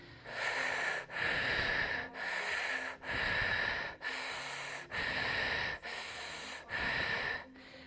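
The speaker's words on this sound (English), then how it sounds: "start accelerating your breath" Rapid, forceful breathing during a breathwork exercise: an even series of about eight loud, rushing inhale-exhale cycles, each roughly a second long, heard close up with no talking.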